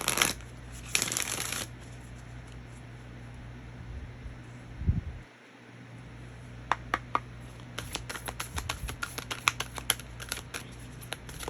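A deck of cards is shuffled close up, with a short riffle burst early, a soft thump, then a long run of quick crisp flicking snaps over faint room hiss.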